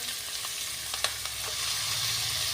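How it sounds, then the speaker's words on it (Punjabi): Finely diced potatoes frying in a pan for upma, a continuous hiss of sizzling oil with a few soft stirring clinks, the frying swelling a little louder toward the end. "ਆਲੂ ਨੂੰ ਵੀ ਆਪਾਂ ਲਗਾਤਾਰ ਹਿਲਾਉਂਦੇ ਵਿੱਚ ਨਾਲੇ ਆਲੂ ਨੂੰ ਵੀ ਆਪਾਂ ਪਕਾ ਲਾਂਗੇ ਜੀ"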